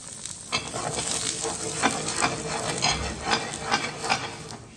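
Koi fish frying in hot oil for a Bengali koi curry with pointed gourd, a steady close crackling sizzle with a few louder pops, no talking.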